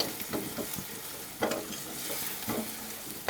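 Ground spices, turmeric, chili, coriander-cumin powder, garam masala and salt, sizzle gently in a pan over a low flame, with soft stirring scrapes at irregular intervals close by.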